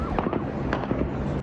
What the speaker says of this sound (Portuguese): Bala tá voando de verdade.